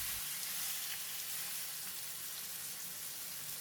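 Lamb shoulder pieces frying in an oiled pan give off a steady, even hiss of sizzling fat, close and unbroken, with no voices.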